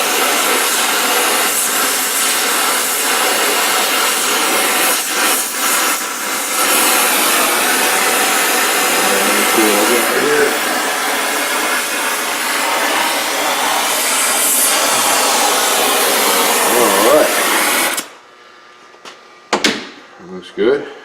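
A heat gun blows a steady loud rush of hot air while material is bent to 90 degrees during a Tardis build, running continuously for about eighteen seconds before cutting off, followed by a few brief knocks.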